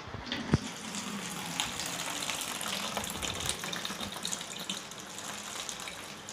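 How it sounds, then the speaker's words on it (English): Water runs steadily into a plastic bottle in a steady gushing flow with a few small splashes, fairly quiet and continuous with no talk. "Then I filled the bottle with water."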